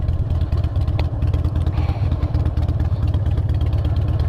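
A 2006 Harley-Davidson Dyna Wide Glide motorcycle engine running close by, a loud, steady low rumble with rapid pulsing throb and some mechanical clatter, without talk.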